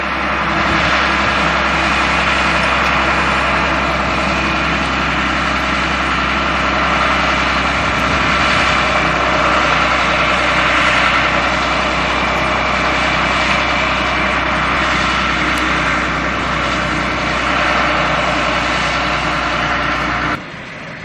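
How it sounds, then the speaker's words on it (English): A crane engine running steadily while lifting a 40-meter antenna boom, a loud continuous droning rumble with little change throughout and an abrupt drop in level at the very end, no speech. "So now the crane operator is moving it up."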